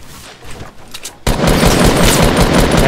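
Gunfire in the video game Fortnite erupts after a quiet moment into a loud, continuous burst of rapid shots that fills the rest of the moment.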